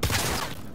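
A burst of gunfire in the video game Cyberpunk 2077, a dense, loud fusillade that fades over under a second, with no talking.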